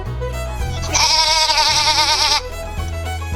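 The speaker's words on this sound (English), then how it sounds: "The sheep says baa." A sheep bleats once in a long, wavering, nasal call lasting about a second and a half, clear and close over soft background music.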